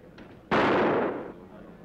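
A single gunshot fired at a man in a Western drama: one sharp, loud blast that rings out and fades over about a second, with no voices.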